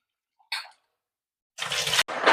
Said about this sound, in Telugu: మనము దీన్ని కొద్దిగా ట్యాప్ వాటర్లో కూడా క్లీన్ చేసుకోవాలండి